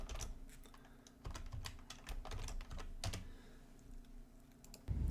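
Keys clatter on a computer keyboard while something is typed into Notepad, in bursts of quick taps with short pauses between them. The typing is moderately close and sounds alone, with no voices.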